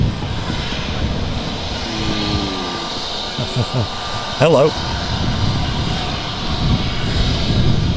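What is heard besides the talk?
EasyJet Airbus A320neo aircraft engines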